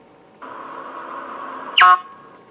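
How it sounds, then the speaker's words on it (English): Dipsy's bottom noise from a Living Books video game plays as a short honking toot lasting about a second and a half, then ends on a brief, louder squeaky upward blip, alone against silence. "Anytime Dipsy sits or falls down, he makes a bottom noise like this"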